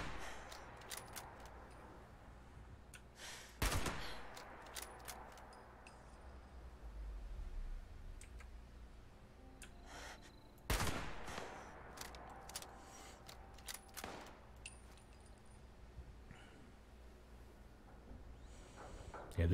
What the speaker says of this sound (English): they're shooting blind